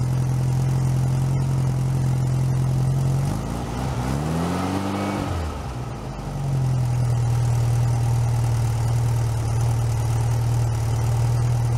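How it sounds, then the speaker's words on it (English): A nearby air-cooled VW engine running on a bench outside the car hums steadily and low, briefly revs up and drops back, then returns to an even idle. "it's just a running engine"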